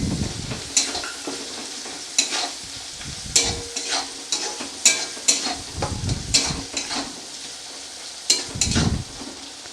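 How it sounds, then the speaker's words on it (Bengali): Whole cardamom pods and bay leaves fry in hot oil for a Bengali chicken curry, a spoon scraping and stirring the pan in irregular strokes over a steady close sizzle, with no talking. "দিয়ে আমি আরও খানিকক্ষণ নাড়তে থাকবো"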